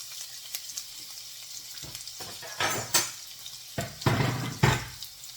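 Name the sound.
garlic and onions sautéing in hot oil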